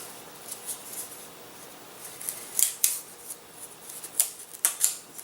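Scissors snip through a model glider wing part, a series of short crisp cuts, sparse at first and then clustering in pairs, close and clear against quiet background.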